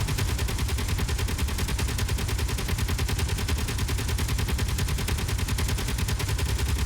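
Turret gunfire on a ship in a space video game: a loud, unbroken stream of rapid automatic shots with a steady, fast rhythm for the whole stretch, heard alone.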